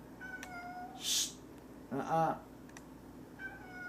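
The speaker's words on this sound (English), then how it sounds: "start with that meow" A cat meows twice indoors, a short high cry followed by a longer, more tonal meow, fairly close, with a brief hushing voice and light clicking around them.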